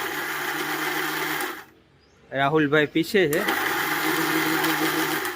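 An electric mixer grinder whirs steadily while blending a thick chutney for Kathiaviri ganthiya, stopping briefly while people speak, then restarting with the same loud, even motor drone.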